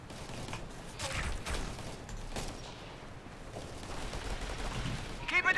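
Gunfire crackles in the war game Operation Flashpoint: Red River, with scattered shots and rapid bursts over a rough, noisy battlefield background, growing denser toward the end.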